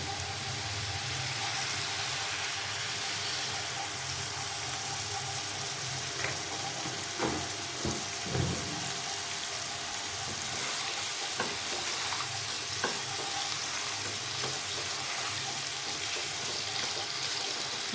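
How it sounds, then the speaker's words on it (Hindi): Slices of bitter gourd (karela) fry in about two cups of cooking oil, filling the scene with a steady crackling sizzle and occasional stirring knocks, close and continuous, with no talking. "ज़्यादा मैंने इसको फ्राई नहीं करना, बस हल्का सा ब्राउन मैंने करना।"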